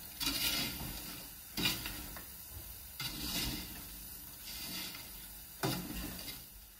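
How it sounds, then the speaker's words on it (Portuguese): A utensil scrapes and stirs sugar melting with peanuts in a pot, in repeated strokes, with a soft steady rasp and occasional louder knocks against the pot. "deixa-se derreter um pouco o açúcar no fundo da panela, sempre mexendo"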